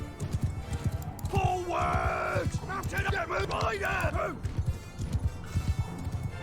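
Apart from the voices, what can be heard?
horses galloping in video game Mount & Blade Bannerlord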